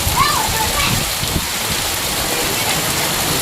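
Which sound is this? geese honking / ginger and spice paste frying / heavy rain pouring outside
heavy rain pouring outside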